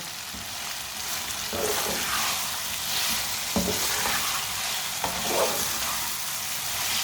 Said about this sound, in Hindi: अब इसे थोड़ी सी तेज़ आंच पर पका लेंगे।